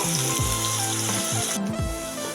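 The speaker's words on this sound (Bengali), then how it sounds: "আলুগুলো একটু ভেজে নেব" Diced potatoes sizzle in a hot pan with bay leaf and dried red chillies, a continuous crackling hiss with a few low scraping stirs.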